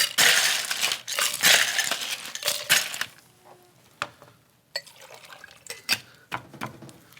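Ice cubes tumble loudly into a Boston shaker holding cocktail ingredients, with bursts of crashing and rattling at first, then scattered clinks and settling ice knocks, up close.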